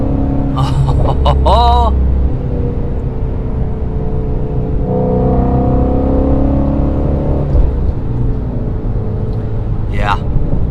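A Ford Mustang Shelby GT350 engine drones steadily while driving in fourth gear, with a swelling rev partway through and brief speech over it.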